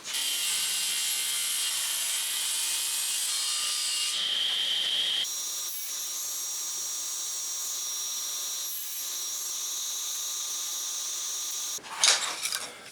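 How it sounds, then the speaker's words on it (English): Table saw ripping a thin wood strip, 3/4 inch wide by 1/4 inch thick, for a marble racetrack, with a steady loud whine of the blade cutting through the wood for about twelve seconds, then a short clatter as the cut ends. "And now we move to the table saw."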